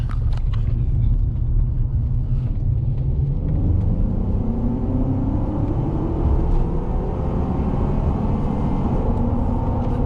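A Ford F-150 EcoBoost truck accelerating in sport mode gives a loud, steady engine and road rumble whose pitch climbs as it gathers speed, heard up close with no talking.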